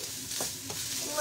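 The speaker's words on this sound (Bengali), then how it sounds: "আমি রাইস ভেজে নিচ্ছি এখন" Rice frying in a pan gives a steady close sizzle, with a couple of soft stirring scrapes over about a second.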